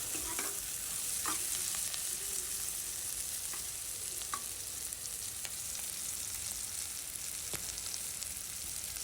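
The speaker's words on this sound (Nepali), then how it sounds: "यसरी फ्राई गर्दैछु।" Onions fry in a pan for a homemade fish curry, a quiet, even sizzle broken by scattered light clicks and scrapes of stirring, with no voices.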